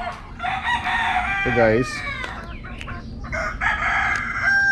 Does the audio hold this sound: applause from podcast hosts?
no